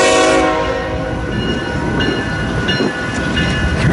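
A westbound train rolls past at a crossing in Fremont, Nebraska, a loud steady rumble of wagons with a horn tone early on, continuous and close throughout with no talking.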